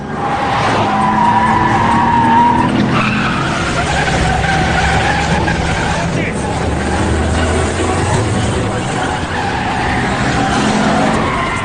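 Tires skid and squeal as cars race through a city in a film chase, a loud, dense mix of engine roar and screeching rubber over tense music, with voices speaking throughout.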